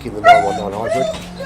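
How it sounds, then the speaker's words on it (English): A pet dog yelps and whimpers in the background behind close, continuous talking, the brief excited cries partly masked by the voice. "I apologise for my dog going mental in the background"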